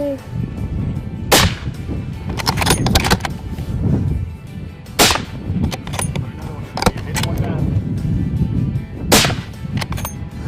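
Hunters fire a rifle at a moose near Ceaser Lake in the Yukon. Several sharp, loud cracks are spread across the stretch, with outdoor rustling and people talking in between.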